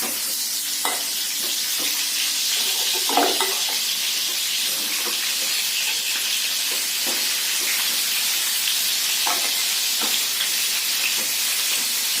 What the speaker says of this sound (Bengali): দেখো মাছ ভাজা আমার একদিকটা হয়ে গেছে